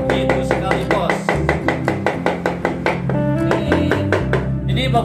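Maggot fish bait is chopped by hand on a board, with a fast run of sharp, evenly spaced knife strikes, some heavier thuds mixed in, continuing close and loud throughout.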